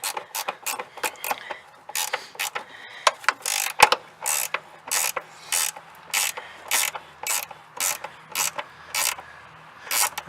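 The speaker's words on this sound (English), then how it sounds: "Now I'm going to go ahead and tighten up the bar that holds the battery in place." Hand ratchet snugging down the battery hold-down bar on a Jeep Cherokee, a loud, close run of quick clicking bursts with brief pauses between them and one sharp knock, no voices.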